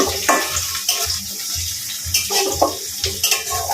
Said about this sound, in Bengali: মাংস রান্না করলে আমি প্রথমত এভাবে মশলা কষিয়ে রান্না করি